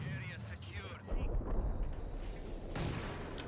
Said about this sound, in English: So we have a light artillery barrage on the Siskan